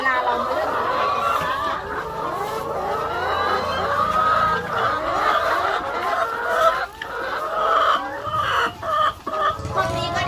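Laying hens cluck and squawk close by in a busy flock, with someone speaking Thai over the clucking.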